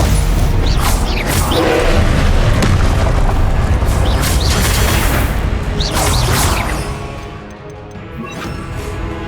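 A Confringo fire-spell blast in the video game Hogwarts Legacy, heard as loud, dense booming crashes with sharp whooshing bursts layered over sustained combat rumble that eases slightly near the end.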